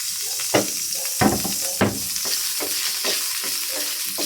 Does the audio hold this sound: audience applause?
no